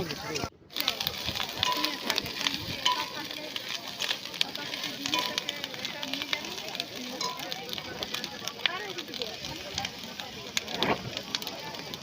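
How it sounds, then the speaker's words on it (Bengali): Onions fry in oil as the first step of a village-style pork dish, giving a continuous close sizzle and hiss with scattered pops and stirring scrapes, while a voice talks over the cooking. "প্রথমে আমরা তেল দেব, তারপর পেঁয়াজ দেব, হালকা পেঁয়াজটা ভেজে নেব"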